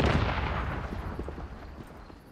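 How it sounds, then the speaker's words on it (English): A grenade thrown at a rock in the video game Once Human goes off with a single loud, close boom that rolls into a long, decaying rumble, with no voices over it. "Throw your grenade at it."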